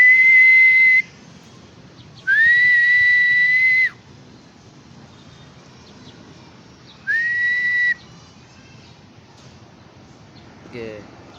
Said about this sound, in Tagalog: Maganda ba guys yung sipol ko guys?